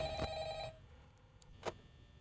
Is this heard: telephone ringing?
yes